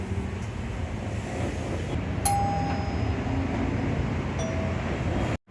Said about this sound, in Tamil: பேசிக் டிங் டாங் பெல்.